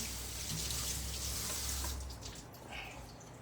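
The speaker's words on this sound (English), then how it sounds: "let me wash my hands off." Tap water runs and splashes close by into a sink during hand washing, loud and steady, then eases off near the end.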